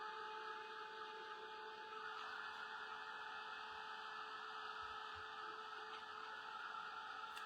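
A hair dryer blows steadily on freshly painted blue acrylic, a constant close whooshing hum with a faint motor whine, unbroken for the whole stretch, no talking.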